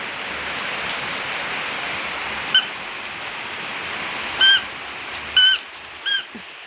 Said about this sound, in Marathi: आला पाऊस बघ